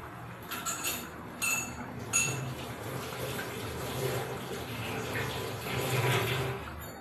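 A kitchen tap runs steadily while hands are washed beneath it, a soft continuous water hiss with a few brief splashes and clatters, close and moderately quiet, with no talking.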